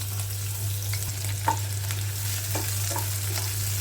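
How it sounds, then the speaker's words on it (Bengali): Chopped onions and green chilies fry in hot oil for a chepa shutki and kochur loti dish, giving a continuous close sizzle with a low steady hum beneath and occasional soft pops and stirring scrapes. "আগে থেকে কেটে রাখা পেঁয়াজ আর কাঁচামরিচ কুচি দিয়ে দিলাম ভাজার জন্য।"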